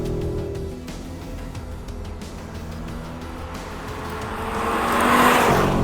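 A 2.5-litre 400-horsepower five-cylinder Audi RS 3 hot hatch drives a tight track, its engine droning steadily near the listener and swelling louder toward the end as it seems to come closer or rev harder.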